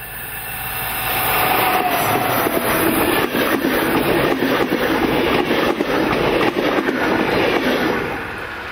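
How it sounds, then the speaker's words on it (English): A Märklin class 218 locomotive pulling a reversible passenger train rumbles past steadily, with broadband rolling noise, rhythmic rail clatter and a high metallic squeal, building in over the first couple of seconds. "218 is on its way pulling another reversible train"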